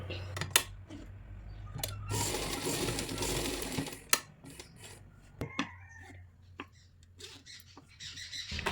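A sewing machine stitches a nighty, double-stitching a seam near a zip, its low motor hum running in a steady burst with scattered clicks and handling taps around it, close and moderately loud, no talking.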